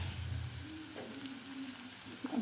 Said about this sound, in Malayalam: ഇഞ്ചി നമുക്ക് നന്നായി വഴറ്റി കൊടുക്കാം